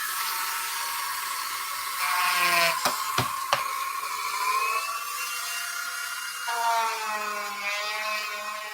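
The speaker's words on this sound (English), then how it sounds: "I'm gonna Dremel this thing out a little bit and probably make a mess." A Dremel rotary tool whines at high speed as it grinds material, its pitch dipping and rising under load with a few sharp clicks midway, close and steady throughout.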